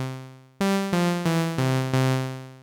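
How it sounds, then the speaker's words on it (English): The 101 saw wave patch on a 1997 Yamaha EX5 synthesizer plays a buzzy, bright sustained tone through five quick note changes, loud and clean with no voice. "And here I'm selecting the 101 saw wave sound on the EX5."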